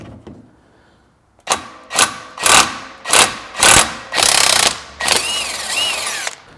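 A ratchet loosening an 18mm left-hand thread primary clutch bolt on a CFMoto ZForce 950 Sport, heard as seven loud, close, rhythmic ratcheting strokes after a quiet start, the last ones running longer.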